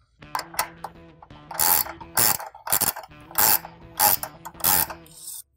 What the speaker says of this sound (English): re-tighten the bolt until we get 4 inches of stretch